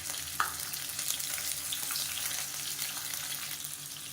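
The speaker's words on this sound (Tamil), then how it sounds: "இதையும் இப்போ எண்ணெயில் நல்லா வதக்கி விட்டுக்கலாம்." Tomatoes sautéing in oil, a steady close sizzle and crackle of frying with a brief stir sound near the start.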